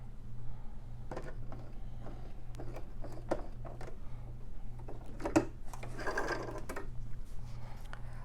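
A Brother LX3817 sewing machine stitches in a pulsing rhythm of short bursts over a low motor hum, close up but fairly quiet, with a few sharp mechanical clicks and taps mixed in.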